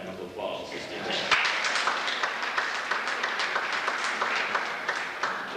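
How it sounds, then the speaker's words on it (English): Audience applause at a Delta State University student orientation in 2000, a steady crowd clapping that swells from moderate to full and holds for several seconds in a large room. "give yourselves another round of applause"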